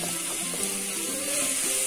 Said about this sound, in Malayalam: ഇത് രണ്ടും കൂടെ നന്നായിട്ടൊന്ന് വഴറ്റി കൊടുക്കണം.